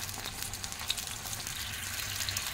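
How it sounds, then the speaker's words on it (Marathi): A quiet pan of vegetable gravy for veg lollipops simmers with a soft, even bubbling sizzle that holds steady throughout the short stretch, with no voices. "आपल्याला याची ग्रेव्ही बनवून घ्यायची आहे. आता ही आपण थोडी 2 मिनिटं शिजवून घेऊया."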